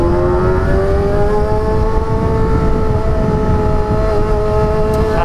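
An engine is held revving loudly nearby on a busy Saturday night street, one sustained throaty tone creeping slightly upward in pitch over a constant traffic roar.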